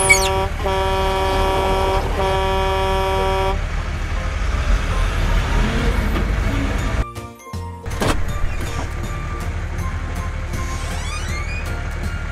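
A green garbage truck's horn in a children's cartoon sounds in bright, repeated toots over a running engine, followed by a brief dropout and then steady vehicle rumble.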